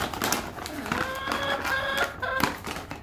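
A pet chicken makes short tonal clucks and chirps, close and moderately loud, while someone talks over it nearly throughout.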